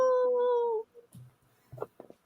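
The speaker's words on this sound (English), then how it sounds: "Obligatory howl." A wolf howl in the WolfCop film: a sustained tonal wail that glides and slowly falls for almost a second, alone and fairly clear, followed by low snuffles and grunts.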